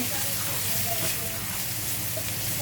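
Diced onions frying in oil for bhindi masala, a steady close sizzle and hiss with faint stirring, continuous with no pauses.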